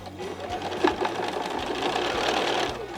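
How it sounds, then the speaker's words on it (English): A sewing machine stitches a partial seam on a quilt block, running in a steady, close, even whir of rapid needle strokes for about three seconds with no voices. "I'm going to sew from the middle of the block to the end of the block"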